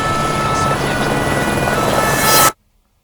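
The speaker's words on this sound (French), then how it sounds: "Dans les airs, canadaires et hélicoptères." Firefighting helicopters fly over a forest fire, a loud, close, steady rotor roar that holds, then cuts off abruptly.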